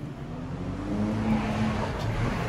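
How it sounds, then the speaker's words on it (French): A car on a road beside a pond goes by, a low engine hum that swells and fades at moderate distance over about two seconds. "c'est de la circulation. Hein. Malheureusement, il y a une route à côté."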